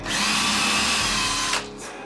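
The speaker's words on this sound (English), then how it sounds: "set this up to drill and drive some screws" A 4-in-1 modular drill and driver whirs loudly and steadily, then briefly changes pitch as it bites in and winds down near the end, close up with no talking.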